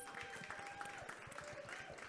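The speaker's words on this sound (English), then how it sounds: "Please give Rachel a round of applause" Applause from a conservation storytelling panel audience, a steady wash of clapping at moderate level with a few faint tonal sounds running through it.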